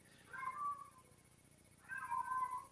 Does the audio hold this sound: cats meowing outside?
yes